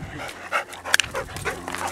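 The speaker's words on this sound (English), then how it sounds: "Okay, now for the four-legged dog." A dog gives a few short barks and yips outdoors by a lake, mixed with brief human voices over a couple of seconds.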